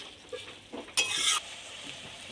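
Fried eggplant and potatoes being stirred in a pan for a Bengali ghonto, with a brief burst of scraping and sizzling in the middle, preceded by a few lighter utensil taps.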